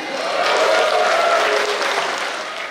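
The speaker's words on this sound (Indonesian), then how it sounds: "Mana anak ITB, tepuk tangan." ITB university students in a lecture hall clap together in a thick, continuous wave of applause, loud and steady with faint voices mixed in, easing slightly at the end.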